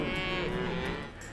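Cattle moo in Texas cattle pens, one long, deep, drawn-out low near the listener, filling the moment and fading at the end.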